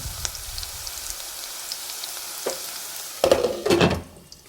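Dried red chillies fry in oil in a covered pan, giving a soft steady sizzle with a few sharper crackles and spatters, a louder burst of sputtering close to the end.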